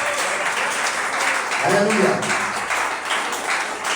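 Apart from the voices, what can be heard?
congregation applauding in church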